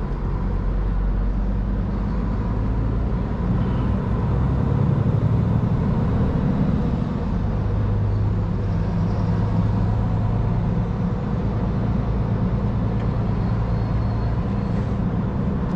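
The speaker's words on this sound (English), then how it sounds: "It's so congested here. There's so much traffic every damn time." Heavy, congested Berlin city traffic heard from inside a truck cab: a steady low rumble of engines and road noise with passing vehicles, continuous and fairly loud, no talking.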